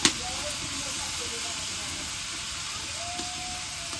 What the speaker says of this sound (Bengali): এখন আমি এর মধ্যে দিয়ে দিই একটু রসুন বাটা